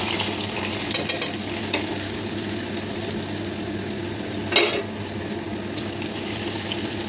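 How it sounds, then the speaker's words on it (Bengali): Onions fry in hot oil in a wok, making a steady, loud crackling sizzle close by, with a few sharper stirring scrapes and clinks along the way. "লাল লাল করে পেঁয়াজটা ভেজে নেবো"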